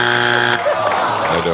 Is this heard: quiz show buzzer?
yes